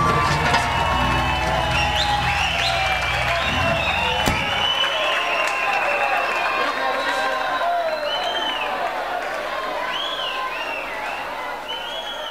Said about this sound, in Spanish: Aplauso por favor para la banda.